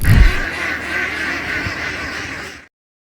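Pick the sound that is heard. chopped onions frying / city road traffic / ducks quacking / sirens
ducks quacking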